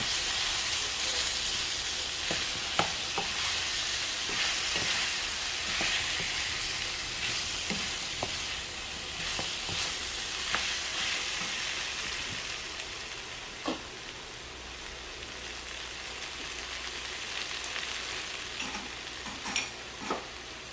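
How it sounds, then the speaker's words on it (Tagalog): Pork, about a kilo, sizzles and hisses steadily in a hot pan for pork binagoongan, with occasional stirring clinks and scrapes over the constant frying noise. "Tapos, ilalagay ko na yung ating pork."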